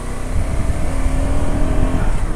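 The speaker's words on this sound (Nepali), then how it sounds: "धेरै बाइकहरू गइरहेको छ" Many motorcycles ride a mountain road on the way to Manang, Nepal, making a loud, continuous engine drone with rising and falling revs as they pass close by.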